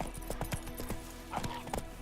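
Horse hooves in The Witcher 3 video game clip-clop in a quick, steady rhythm at close range, with faint game ambience and music underneath.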